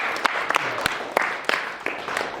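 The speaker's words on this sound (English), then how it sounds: "give DG a round of applause" Scattered clapping from a small group, irregular sharp claps over a background murmur of voices, moderately loud.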